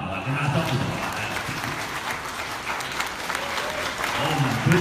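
An audience claps warmly at a Cartier jewellery gala dinner, a sustained burst of applause that grows louder toward the end, with voices faintly mixed in.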